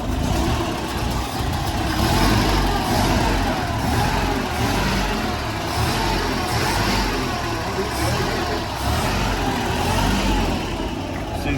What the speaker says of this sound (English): So on with the ignition.